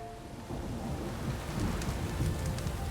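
In The Witcher 3 game world, steady rain hisses down while low rolling thunder rumbles and swells in the background, with no talk.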